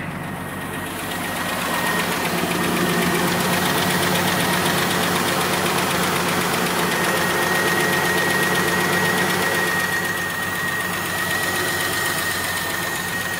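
A Ford Falcon engine, with replaced exhaust manifold gaskets, runs steadily at idle just after starting, a close, continuous mechanical hum with a light knocking texture throughout.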